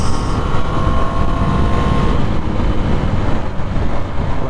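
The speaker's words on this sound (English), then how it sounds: "the speed builds up pretty quick because of the punchy nature of the engine" A Husqvarna Svartpilen 250 motorcycle accelerates on the road, a loud continuous engine roar mixed with heavy wind rush, a faint rising whine early on before it settles into steady riding noise, no talk.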